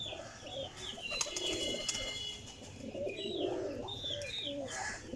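Pigeons coo softly in a loft, low throaty calls overlapping at a distance, with faint wing flutters and quiet chirps in the background.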